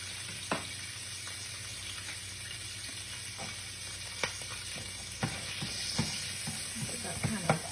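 A medium onion frying in a skillet with a soft, steady sizzle and occasional sharp clicks and scrapes of a utensil against the pan, fairly quiet throughout.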